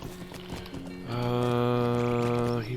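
Horse hooves clip-clopping in the online game LOTRO, a steady rhythmic patter over game music, growing fuller as a sustained musical tone joins partway through.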